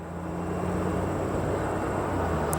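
Steady roar of an Aer Lingus jet arriving from Dublin at Chicago O'Hare, a loud broadband engine rush with a faint high whine, constant and fairly close.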